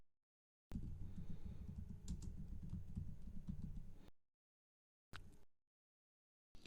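Fingers type on a computer keyboard while code is written in a Python editor. A close, steady patter of keystrokes lasts about three seconds, then silence falls, broken by a short final burst of taps.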